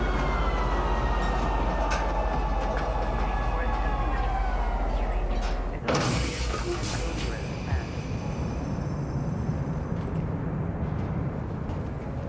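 A train in the Star Citizen video game rolls into a station with a steady loud rumble and a rising whine, then a sharp hiss or clunk as it stops and noise lingers.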